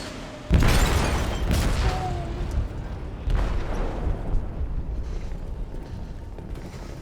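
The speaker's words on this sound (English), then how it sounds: "They detonated an explosive in the hold." A game explosion aboard a ship in Detroit: Become Human, a loud sudden boom followed by a long rumbling roar, then a second heavy burst partway through that fades into low debris noise.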